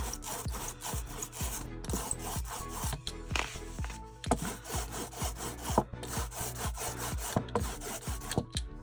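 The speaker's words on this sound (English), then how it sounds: "do you hear how thick it is? The sound it's making?" A sticky, rhythmic rasping as a roller is pushed back and forth through thick lino printing ink, repeated tacky strokes close up with no voices.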